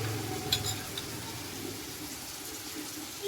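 Onion and asafoetida tossed into half-cooked potatoes in a pan for a Bombay-style batata poha, with a steady soft sizzle, a couple of spoon scrapes near the start, and faint water-like hiss throughout, no talking.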